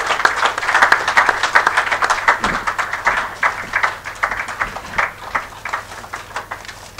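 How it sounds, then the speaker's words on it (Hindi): An audience claps by hand at a felicitation gathering, a moderate patter of many hands that rises and falls and thins toward the end. "तालियों की गड़गड़ाहट बजती रहनी चाहिए।"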